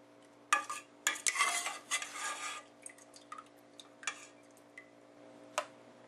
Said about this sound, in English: We will now remove the meat from the liquid.